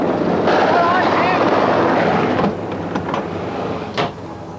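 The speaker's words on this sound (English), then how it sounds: "Don't panic, that's just Jim bringing the wind." Wind sound effect in a double glazing advert, a loud, steady whooshing roar that eases partway through and stays under a voice speaking near the end.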